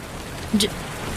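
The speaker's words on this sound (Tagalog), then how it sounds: "Ba naman tong ulan na to?" Steady rain falls around a roadside waiting shed, a constant hiss of moderate loudness broken by a brief voice-like sound partway through.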